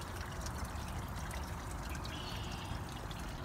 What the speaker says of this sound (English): I'm gonna go ahead and turn on the pump again so you can see that water should be pumping right now